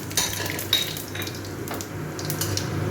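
Whole spices for tempering hit hot oil in a pan for masala khichuri, giving a steady close sizzle and frying hiss with a few clanks of utensil on pot, no voices.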